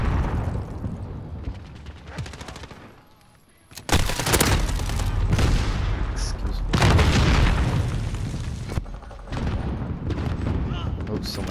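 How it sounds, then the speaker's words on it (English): A Javelin missile launcher fired in Call of Duty: Modern Warfare, with loud booming blasts and bursts of gunfire amid battle noise, heavy impacts around the middle, while players talk over the action. "Someone shot a javelin."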